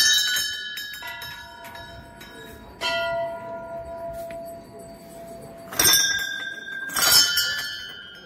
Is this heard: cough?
no